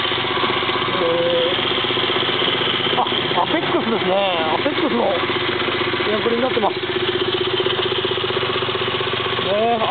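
A late-model Suzuki Cappuccino with a five-speed and an APEX aftermarket air cleaner idles steadily throughout, a constant low hum, while someone talks over it close by.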